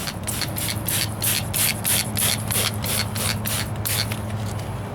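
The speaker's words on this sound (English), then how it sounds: "What I'm going to do is I'm going to attempt to do some wet sanding." Close, steady wet sanding strokes with 220-grit paper and a soapy water solution on a 1998 Ford Ranger driver's side wheel arch, rubbing back and forth in a regular rhythm over a faint low hum.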